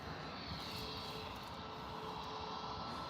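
Ryanair airliner departing Birmingham airport, a steady broadband jet roar that holds level throughout, heard from some distance with no talk over it.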